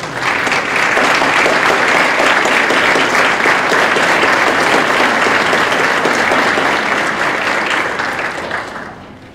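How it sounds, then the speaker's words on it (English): Sustained applause from a large audience at a high school honors night, honoring students called forward. The clapping is dense and loud throughout, then tapers off near the end. "Let's give them another round of applause"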